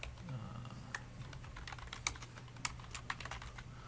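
Light clicking on a computer keyboard while drink names are entered, a quiet, uneven run of taps over a steady low hum.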